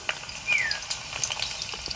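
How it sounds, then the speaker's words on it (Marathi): Crushed garlic frying in hot oil for a Konkani dried-shrimp curry, a steady close crackling sizzle with small pops and a brief stirring scrape, alone without speech. "तेल तापलं आता आपल्याला ह्याच्यात ही लसूण टाकायची आहे"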